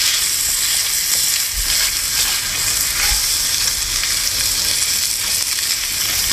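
Bacon fries in a pan on a Solo Stove Lite double-wall gasifier wood-burning stove, a loud, continuous close-up sizzle with occasional soft scraping.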